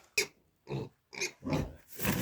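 A series of short snuffling piglet grunts, about five bursts in an uneven rhythm, close by and fairly clear with no talk.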